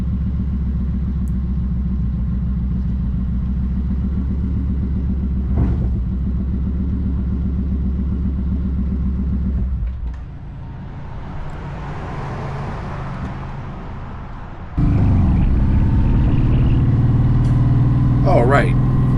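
A 2015 Kawasaki Voyager motorcycle engine runs steadily under a loud, close, low rumble while being ridden, dipping partway through and then rising louder again, with wind noise throughout.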